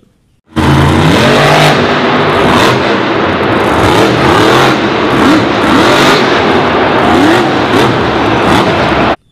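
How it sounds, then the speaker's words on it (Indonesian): A toy off-road car's engine roars loudly and continuously, with repeated revving surges over about nine seconds and no talking. "Ini adalah mobil off-road."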